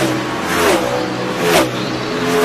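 NASCAR stock cars race around Richmond's track in the 2002 Pontiac Excitement 400. Engines roar past in repeated rising and falling sweeps at close range, loud and continuous, with no talk.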